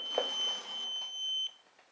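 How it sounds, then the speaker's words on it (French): An electrical field tester emits a steady, shrill electronic beep held near a bedside lamp, sounding close and continuous before cutting off abruptly. "la lampe elle bip de partout"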